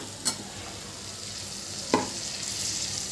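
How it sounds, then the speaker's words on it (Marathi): Cut okra is stirred in a hot pan for an okra saar, with a steady sizzle throughout and two brief scraping knocks from the stirring spoon. No one speaks. "भेंडी आपण कापून ठेवलेली ना ती भेंडी यामध्ये घालूया"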